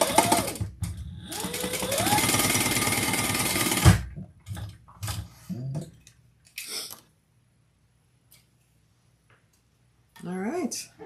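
A sewing machine runs steadily for a few seconds, stitching a fabric seam down at one-eighth inch, then stops, followed by handling clicks and a brief voice near the end.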